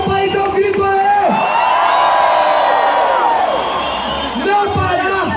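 A crowd at a Brazilian political rally in Juiz de Fora bursts into a loud, sustained roar of shouts and whoops that swells and then fades back under a speaker's voice.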